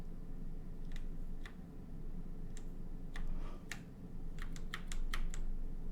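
Computer keyboard keys tapped during video editing work on a stream recording, a series of sharp clicks in short bursts, some isolated and some in quick rapid runs, close up over a steady background hum.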